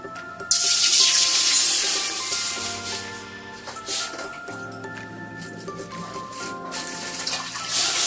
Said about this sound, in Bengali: এখন হাঁড়িতে জল দিয়ে দিচ্ছি।